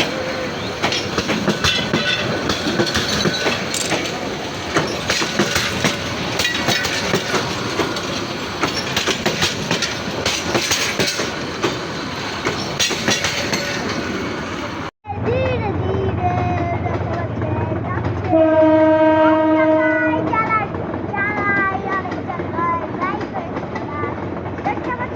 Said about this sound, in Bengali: জয়দেবপুর থেকে ট্রেনটি ছেড়ে যাচ্ছে আস্তে আস্তে।